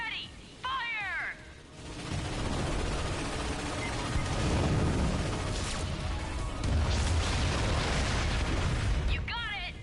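Ship cannons fire in a space combat video game, with booming blasts and sweeping whooshes rising over a busy mix of voices and electronic effects.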